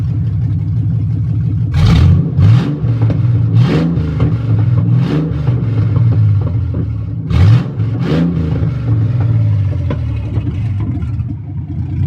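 A deep, loud catless 4.3-liter V6 engine rumbles at idle close by, with several quick revving blips rising and falling, two clusters of revs separated by steady idling.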